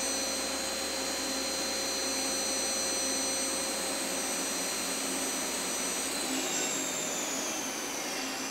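A Nakamura Slant 1 lathe spindle runs steadily at 4,000 RPM, giving a loud, continuous high-pitched whine and hum that holds constant, then shifts slightly in pitch near the end, with no talking.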